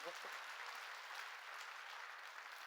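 A church congregation at a Korean worship service applauds together, a dense, steady wash of many hands clapping that fills the whole stretch at an even level.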